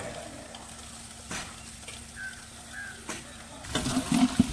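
Sliced eggplant being stirred in a clay pot during Pongal cooking: faint scattered scrapes and a low simmer, then a louder, busier stretch of stirring and bubbling near the end.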